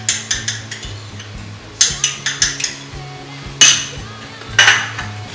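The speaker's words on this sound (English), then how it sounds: "Mix it up really well." A spoon mixing curry shrimp cocktail sauce with tomato ketchup, knocking and clinking sharply against the pan in repeated bursts of loud, close metallic taps, with no talk.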